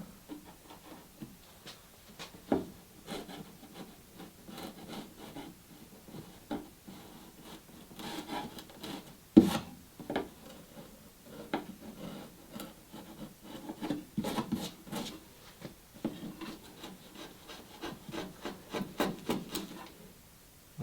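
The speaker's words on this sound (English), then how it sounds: "You might find a chisel is the best way to sort of clean up some of these minor things" Steel chisel paring and scraping along wooden planks of a Catalina Wherry boat build, with repeated close scraping and rasping strokes in an irregular rhythm and no talk.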